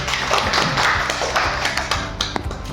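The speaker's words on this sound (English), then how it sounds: "A big round of applause for sir." An audience at a faculty development programme session applauds, producing a steady, dense patter of many hands clapping at close range that tapers slightly toward the end.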